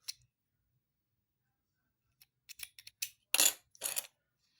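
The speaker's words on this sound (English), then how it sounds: "and then you cut." Scissors snipping sewing thread after hand-stitching a blind hem on a cosplay costume: a few faint, crisp clicks spread over several seconds in an otherwise quiet room.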